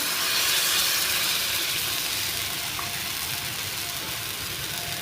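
Jowar flour batter poured around the edges and into the middle of a hot pan on high heat, making a loud, continuous hissing sizzle that holds steady throughout, with no talk.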